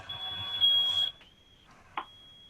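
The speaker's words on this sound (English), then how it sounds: "Somebody set off our smoke detectors." A smoke detector alarm goes off with a steady high beeping tone for about a second, then stops, followed by a fainter chirp and a short sharp burst; no talk is heard.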